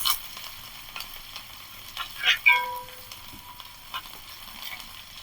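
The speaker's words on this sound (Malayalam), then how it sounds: "ഇഞ്ചി വെളുത്തുള്ളി ഒന്ന് ഇളക്കിയിട്ട് നമുക്ക് ചെറിയ ഉള്ളി ഇട്ട് കൊടുക്കാം" Ginger, garlic and shallots frying in a hot uruli give a low sizzle with stirring scrapes and a couple of louder clattering stirs near the middle.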